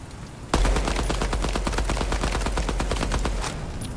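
Sustained automatic assault rifle fire in the shooter game Deadrop, a continuous rapid stream of close, loud shots lasting about three seconds before cutting off.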